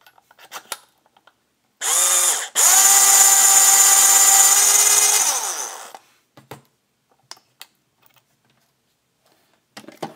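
A power case trimmer cuts .223/5.56 brass cases in a loud motorized whir of about four seconds with a brief stop partway, followed by faint clicks and handling of the brass.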